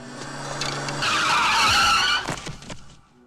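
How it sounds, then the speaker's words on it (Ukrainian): A car racing down a road at high speed brakes into a loud, close tire skid; the screech swells and then fades as the car slides to a stop. "По дорозі на величезній швидкості мчав автомобіль"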